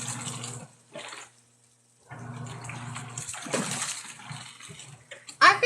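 A hard sponge squeezed one-handed releases bursts of splashing, dripping water, with a short silent gap between squeezes.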